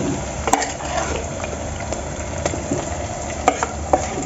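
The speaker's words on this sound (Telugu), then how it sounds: "ఇలా జాగ్రత్తగా చికెన్ మొత్తాన్ని వేసుకోండి." Marinated chicken pieces tumble into a hot frying pan for a chicken curry, giving a steady close sizzle and frying hiss with a few sharp clicks and scrapes of a spoon against the pan.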